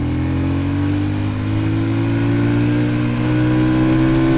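A Sothassi Classic 400 motorcycle ridden on the road, its engine note steady and loud throughout as the rider shifts into third gear, with the engine's tone rising gradually and continuous road noise underneath.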